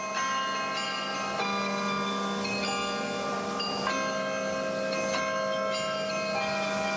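The carillon of Bergues rings out in a steady sequence of clear, sustained bell tones, each note overlapping the last with long resonant decay and no voices.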